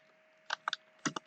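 A short run of keystrokes on a computer keyboard while a Java command is typed, about five or six crisp close clicks in two small clusters.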